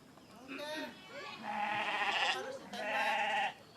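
Sheep bleating in several wavering, drawn-out cries, loud and close, in an Indonesian comedy short film; speech sits around the calls.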